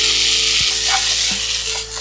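Chopped tomatoes hitting a hot pan for Kerala fish pollichathu, a loud hissing sizzle with a couple of stirring knocks, close up and without speech.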